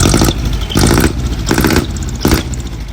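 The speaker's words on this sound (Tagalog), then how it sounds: "Yan yung tunog ng split manifold" Loud engine revving through a split exhaust manifold and muffler, with several hard throttle blips rising and falling in quick succession, close to the microphone and alone.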